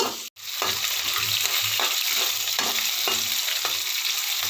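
Onions frying with ginger garlic paste in a pan for aloo kurma, a continuous loud sizzle with rhythmic stirring scrapes about every half second after a brief dropout at the start.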